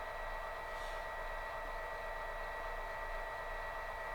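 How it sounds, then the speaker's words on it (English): A steady hiss of a model train's air compressor sound effect from a Tsunami2 sound decoder, running continuously, even and unbroken with no variation, moderately loud throughout. "you can hear that compressor kick in"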